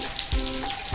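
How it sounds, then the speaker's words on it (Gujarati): Rain pouring steadily in a village, a dense, even patter of drops on surfaces filling a brief moment, close and fairly loud with no voices. "તમે જોઈ શકો છો વરસાદ તો ચાલુ છે"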